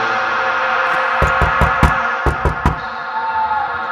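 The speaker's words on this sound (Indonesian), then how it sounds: "Selang beberapa menit ada suara yang mengetuk pintu kontrakan saya." Seven sharp knocks on a rented house's door come in two quick groups, loud and close, over a steady eerie background drone.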